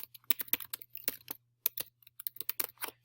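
Quick, irregular clicks of computer keys being typed close by in a quiet room, in short bursts with brief pauses between them.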